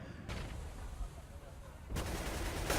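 AK rifle gunfire in a Counter-Strike match on Overpass comes as loud, rapid bursts of shots with dense crackle, the strongest burst near the end, over busy game ambience.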